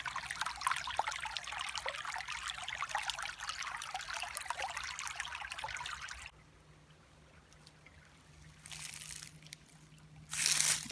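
Cold water in a spring forest stream trickles and splashes close by for about six seconds, then drops to a faint, quiet flow with a few brief splashes near the end.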